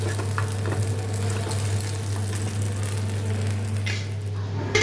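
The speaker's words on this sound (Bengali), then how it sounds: "এটাকে ভালো করে মিক্স করে নিয়ে কষিয়ে নিতে হবে।" Green pea paste stir-fried in a wok gives a soft, steady sizzle with stirring and scraping sounds, close and continuous over a low constant hum, no speech.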